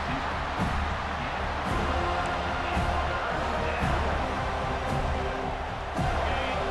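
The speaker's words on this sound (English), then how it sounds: "And here comes the noise. This crowd is trying to inspire this defense to make a big red zone stop." A stadium crowd roars in a broad, continuous wash during a red zone defensive stand in EA Sports College Football 26, loud and sustained, with faint periodic thumps beneath it.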